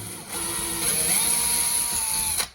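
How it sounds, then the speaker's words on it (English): A power drill boring a starter hole for drywall screws during a ceiling LED panel light install, one close, steady whine of about two seconds that rises slightly in pitch before stopping. "Just getting a starter hole for the drywall screws there."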